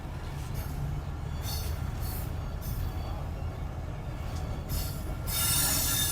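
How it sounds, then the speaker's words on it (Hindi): The Chaman Passenger train rolls onto a track near the Afghan–Pakistan border, its wheels squealing in repeated high shrieks over a steady low rumble, growing louder toward the end, with no talking. "पूरी की पूरी जो है ट्रेन इस वक्त चमन पैसेंजर इस ट्रैक पे आ चुकी है"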